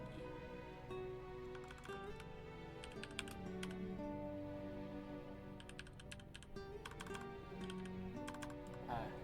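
Keys clatter on a computer keyboard as commands are entered in a Linux terminal, with scattered bursts of clicks over a steady hum and faint tonal background.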